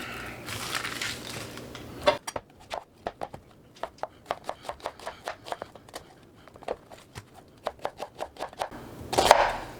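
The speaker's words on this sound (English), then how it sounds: "So I'm just going to take an onion here, cut it up real quick" A knife roughly chops an onion on a board, about twenty quick, crisp thuds in an uneven rhythm, close and clear, with brief rustling at the start and end.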